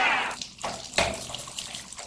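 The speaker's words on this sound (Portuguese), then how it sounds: "Agora é só enxaguar." Tap water runs and splashes during rinsing, a short, moderately loud gush with brief breaks in the flow.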